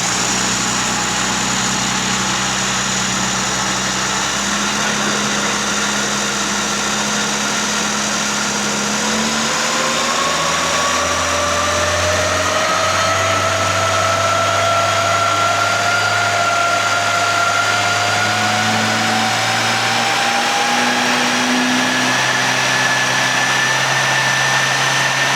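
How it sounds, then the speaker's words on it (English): A tuned Mini-style 998 engine at stage 1 tune revs steadily up and down through its range, a continuous loud mechanical drone with rising and falling pitch sweeps and no talking. "So I'll go through the rev range on it and let's see what we've got."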